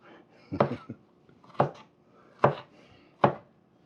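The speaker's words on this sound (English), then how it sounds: "Since the onion is sectioned and you slice it crossways, you got diced onions." Knife chopping onion on a cutting board for pico de gallo: four sharp, evenly spaced chops, close and clear against a quiet background.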